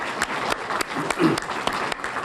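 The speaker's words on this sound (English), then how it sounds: "I would like for you to give Dr. Benjamin a round of applause for her work and commitment." Audience applause in a conference hall during an educational access opening session, a steady wash of many hands clapping with a brief swell near the middle, heard alone without speech.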